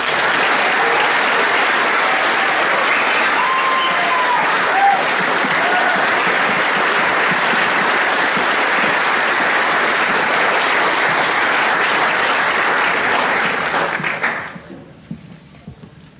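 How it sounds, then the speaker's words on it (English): Loud, sustained audience applause at a Year 13 graduation ceremony, a thick wash of clapping held for about fourteen seconds before fading quickly into quiet. "Another big round of applause, please."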